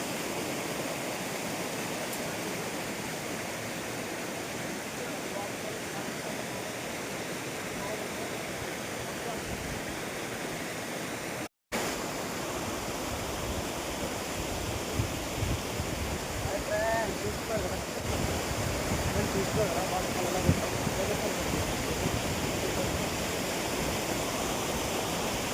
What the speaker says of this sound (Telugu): కదా, అద్భుతమైన వాటర్ ఫాల్ అనమాట ఇది.